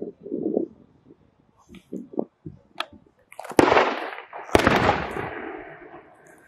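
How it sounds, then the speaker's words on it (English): Loud outdoor gunfire from an M1 Garand rifle at a military museum in Belarus: two sharp cracks with long rolling echoes, preceded by faint scattered voices and thuds. "someone shooting the rifle, that's an M1 Garand"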